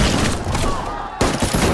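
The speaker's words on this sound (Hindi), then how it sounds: "आसमान में गूंजती गोलियों की आवाज़" Soldiers fire a rapid volley of gunfire on a crowd, a dense, loud burst of overlapping shots, a brief drop, then a second sharp fusillade.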